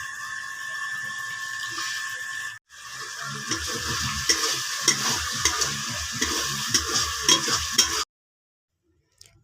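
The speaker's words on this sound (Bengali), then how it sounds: "মশলাটা কিন্তু একটু ভালোভাবে কষে নিতে হবে" Spice paste frying in oil for a cabbage, soya and chana dal dish: loud rhythmic scraping stirs over a crackling sizzle, a short pause early on, then abrupt silence near the end.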